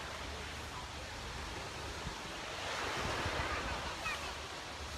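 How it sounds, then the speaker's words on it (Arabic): Artificial waves churning in a swimming pool, a steady wash of surf-like noise that swells slightly midway, heard from nearby and moderately quiet. "يا سيف البيسي لي امواج اصطناعيه فمنظر جميل جدا"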